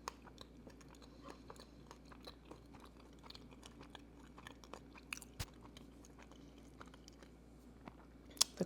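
Close, quiet chewing and crunching of a soft gluten-free vegan berry crumble pie crust with a slightly crispy edge, steady mouth sounds with occasional sharper bites and no talking.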